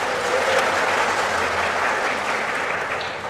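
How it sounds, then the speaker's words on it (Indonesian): A church congregation gathered for a Sunday service claps together in a steady, dense round of applause lasting a few seconds, with no talk over it. "Kita tepuk tangan dulu, tidak apa-apa."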